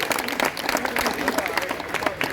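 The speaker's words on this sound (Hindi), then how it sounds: "आपके आशीर्वाद की तालियां इन तक पहुंचे, बड़ी तालियां पहुंचे" Dense crowd applause at a Hindi poetry gathering, loud and continuous clapping from many hands filling a hall, with some voices mixed in.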